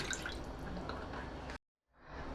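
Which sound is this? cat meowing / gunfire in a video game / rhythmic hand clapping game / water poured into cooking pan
water poured into cooking pan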